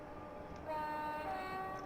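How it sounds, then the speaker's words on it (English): Train horn on a Strood to Tonbridge service running down a gradient toward a station, sounding as a steady tonal blast that starts partway through and holds to the end over a low rumble of the moving train. "The most pointless horn honk we've had"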